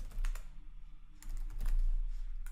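Fingers type a short word on a computer keyboard in a quick, close run of key clicks over a low hum.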